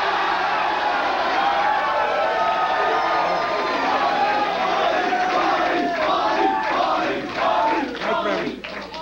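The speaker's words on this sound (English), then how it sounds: "What a great, enthusiastic crowd" Enthusiastic studio audience at a 1985 talk show cheering and whooping, a loud, dense crowd roar that holds steady throughout with scattered shouts rising near the end.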